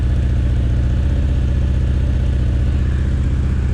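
A Honda CB900 motorcycle engine runs steadily at about 2,000 RPM, a loud, even low throb with a fast regular pulse that holds throughout, with no voices.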